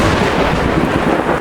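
Loud, rumbling thunder crash from a stormy night in a Korean audio drama adaptation of a 19th-century story, a sustained heavy roll lasting over a second before easing slightly, with no voices.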